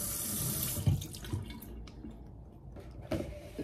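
A bathroom tap runs to rinse a toothbrush, a steady close stream splashing into the sink with a few louder splashes and drips, no voices over it.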